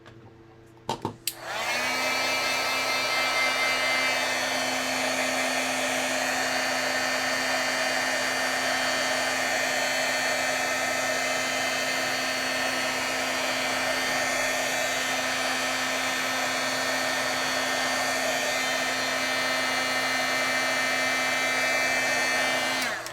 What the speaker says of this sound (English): I'm heat setting the Brilliance ink. The Brilliance inks heat set really quickly.